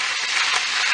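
Sausage frying in a pan for potato soup, a steady, close, bright hiss of sizzling fat with no pauses.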